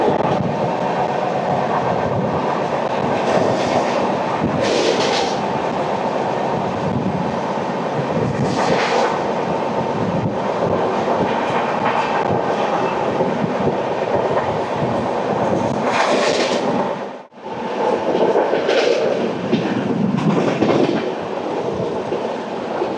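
The Samata Super Fast Express runs at high speed near Marripalem station, a loud continuous roar of wheels and rushing air with a brief dip in the noise, and no one speaking.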